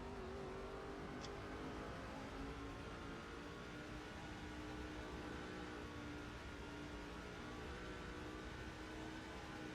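Racing truck engines from the NASCAR 08 Craftsman Truck Series video game at Watkins Glen hum in a steady, continuous drone, with several trucks running together and no talk.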